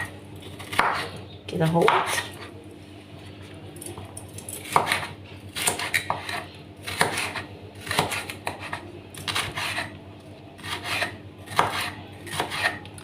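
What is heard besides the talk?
knife slicing red pepper lengthwise into strips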